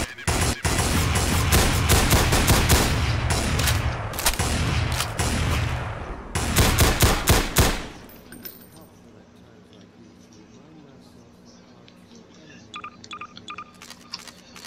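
An SRSS Bulldog submachine gun in Garry's Mod with the M9K weapons addon fires loud, rapid automatic bursts for about eight seconds. Quieter clicks and mechanical handling follow, and someone talks over the shooting.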